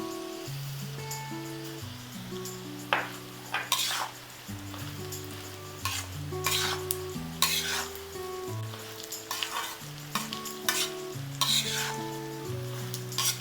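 Sesame seeds and flattened rice are stirred in a hot pan for a traditional Kerala sweet snack. A spoon scrapes and clinks in repeated bursts over a soft sizzle, while background music plays throughout.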